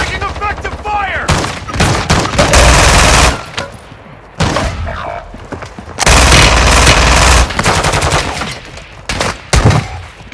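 Call of Duty: Modern Warfare II gunfire, loud close bursts of rapid automatic fire in two long volleys with shorter shots between, with brief game voice callouts mixed in.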